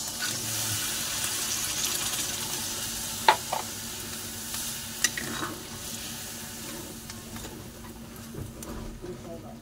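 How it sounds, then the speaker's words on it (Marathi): Water added to masala frying in a pan for stuffed brinjal, giving a steady broad hissing sizzle with a few brief clinks, close and continuous, easing off near the end. "आपण ह्याच्यात थोडंसं पाणी घालू त्याला शिजण्याकरता."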